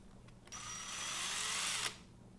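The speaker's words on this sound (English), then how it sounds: "I'll just drill a hole with a drill in the bottom of these cups" A power drill whirs steadily for about a second and a half while drilling a hole in the bottom of a plastic cup, then cuts off abruptly, with faint clicks just before it starts.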